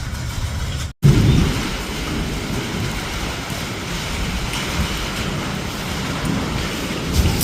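Steady, heavy rain from a thunderstorm roars close by on a tin-roofed house with a low rumbling undertone, broken by a brief dropout near the start, then continuing unbroken.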